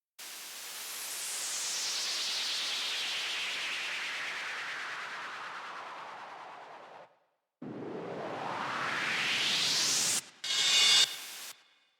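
A synthesized impact effect built from a noise oscillator through a low-pass filter in Serum for dubstep: a long hiss sweeping downward, a brief gap, then a rising noise sweep and a short buzzy burst, loud and alone.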